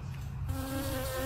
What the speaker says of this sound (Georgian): ფუტკარი, ვაიმე.